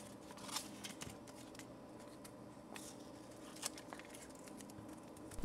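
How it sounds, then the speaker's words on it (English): Paper pattern and tape being peeled off aluminum sheet while finishing a putt-putt steam boat: close, intermittent crackling and tearing rustles with a few sharper snaps. "peel off all the paper pattern and all the tape."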